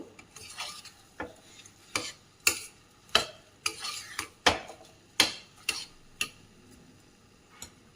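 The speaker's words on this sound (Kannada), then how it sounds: "ಇದನ್ನು ಒಂದ್ಸಲ ಚೆನ್ನಾಗಿ ಕೈ ಆಡಿಸ್ಬೇಕು" A spoon stirring spice masala in a pan for vangi bath, the brinjal rice dish: sharp, close metallic scrapes and taps in an irregular rhythm, about a dozen distinct strikes over a quiet, faintly sizzling background.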